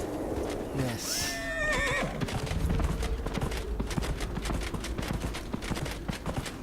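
A horse in the video game Dragon Age Inquisition gives a loud whinny, then breaks into a steady galloping clip-clop of hooves that continues to the end, with game ambience underneath.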